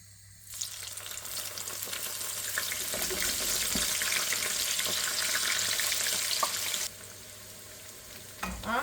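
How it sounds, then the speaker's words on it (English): Aubergine cubes hit hot oil and burst into a loud, steady sizzle with crackling pops, the frying continuing for several seconds before quieting slightly. "இப்போ நாங்கள் கத்திரிக்காயை பொரிப்போம்."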